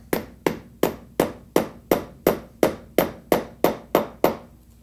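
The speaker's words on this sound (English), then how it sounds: "Drive a finish nail through there." A hammer drives a finish nail into the wooden frame of a camel back sofa during upholstery work, thirteen evenly spaced, sharp ringing blows, close and loud with no talking.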